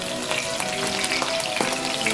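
Chicken thighs skin-side down with garlic sizzle in a pan over low heat, a steady close crackle of fat with small pops, no voices.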